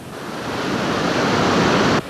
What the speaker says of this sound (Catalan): el riu continua com veuen, portant molta aigua amb una velocitat i amb una força que encara fan feredat